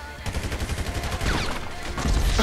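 Rapid automatic gunfire from GTA 5 Online, dense bursts of shots in quick rhythm, loud and close, building into a sustained volley toward the end.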